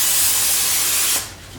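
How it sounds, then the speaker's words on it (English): Cooking spray hisses from a can onto the bottoms of baking pans for mac and cheese, one loud, steady, close spray that stops abruptly near the end, leaving quiet kitchen room tone. "spray the bottoms of our pan,"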